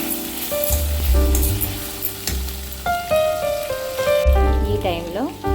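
Tender brinjal (eggplant) pieces fry in a pan with a continuous crackling sizzle, partly covered by background music.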